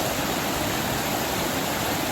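Rapids on the Scantic River rush in a dense, continuous broadband roar of water, steady and close with no other sounds or talk.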